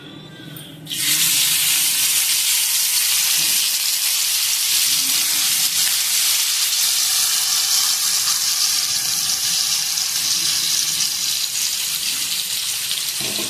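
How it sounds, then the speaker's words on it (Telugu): Fish frying on low heat in a pan of oil, a loud, steady hiss and crackle that rises abruptly after a quiet opening second and then continues evenly, close and unbroken. "కొంచెం సిమ్లో పెట్టుకొని ఫ్రై చేసుకోవాలండి."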